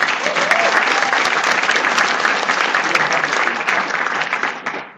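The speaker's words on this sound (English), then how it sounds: "let's give a big round of applause to Dylan Field" Sustained audience applause fills a conference hall in Toronto as a tech CEO is welcomed to the stage, loud and dense throughout before tapering off at the very end.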